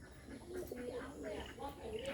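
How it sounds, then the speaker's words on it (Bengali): Bombay pigeons in a loft coo softly in a run of low, rolling calls, faint and fairly close against a quiet background. "ওই যে বাঘা কবুতরের হচ্ছে সবুজ গলাও ডাকতেছে, অনেক সুন্দর ডাকে কবুতরগুলা"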